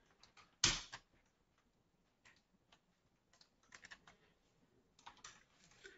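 Sparse keystrokes on a computer keyboard as a short command is entered at a terminal, a loud clack early on and then scattered light taps and small bursts of typing, close and otherwise quiet.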